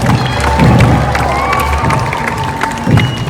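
A crowd of children cheers and shouts in bursts at Darling Harbour in Sydney at night, lively and close, with some scattered clapping mixed in.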